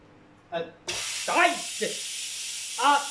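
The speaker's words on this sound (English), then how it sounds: "And now that it's finished, we let off some steam." Steam released from a cooking pot on a hot stove while making cottage pie, a sudden loud broadband hiss that carries on steadily while someone talks over it.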